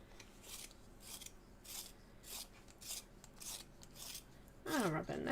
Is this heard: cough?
no